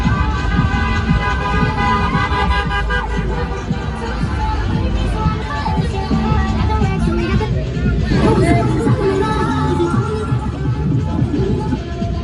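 Philadelphia street scene during the Puerto Rican Day Parade, with a steady wash of traffic, car horns and crowd chatter, and people talking nearby throughout.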